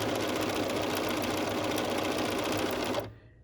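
Close, fast and even, a sewing machine stitches quilt patches together in a quilting session, a continuous rapid whirring that stops abruptly near the end, leaving near silence.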